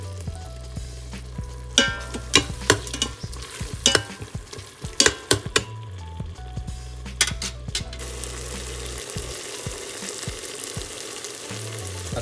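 Tomatoes frying in an oil-separated masala base for mutton biryani, with steady close sizzling and repeated sharp scraping and stirring clicks from a spoon against the pot; no voices.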